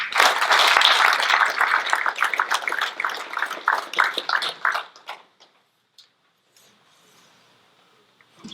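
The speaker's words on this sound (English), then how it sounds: "another round of applause" An audience at a forest-management panel meeting gives a round of dense clapping that tapers off after about five seconds into near silence.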